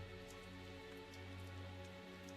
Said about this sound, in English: after we find shelter from the rain